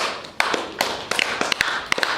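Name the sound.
audience clapping in class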